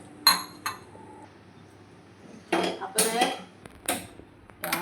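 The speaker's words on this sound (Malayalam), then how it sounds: "ഇനി നമുക്കിത് അടപ്പിലോട്ട് വെക്കാം ഗ്യാസിൽ കേട്ടോ" A metal cooking pot set onto a gas stove gives a few sharp clanks and clinks, close by, separated by quiet gaps.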